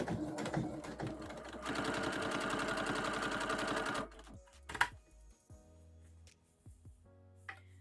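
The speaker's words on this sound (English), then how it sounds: "then you can start your sew" A sewing machine runs steadily while topstitching fabric, whirring in a fast, even rhythmic burst that then stops, followed by a few quieter clicks and handling noises.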